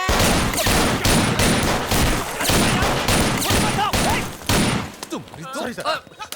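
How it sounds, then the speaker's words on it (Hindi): Police fire a dense, loud fusillade of many gunshots in an Indian action film scene, with rapid overlapping bursts that carry on for several seconds before thinning out into scattered shots and echoes. "गिनती किए बिना ढिशक्याओ गोली चलाएंगे सर"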